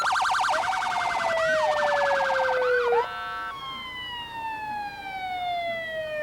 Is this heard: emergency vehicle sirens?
yes